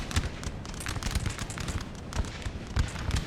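Artillery shelling in Napoleonic Total War 3 during a 4v4 battle: a dense, continuous barrage of cracking and thudding blasts, with low booms punctuating the rapid distant-to-mid-range firing.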